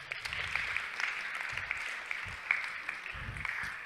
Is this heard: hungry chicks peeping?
no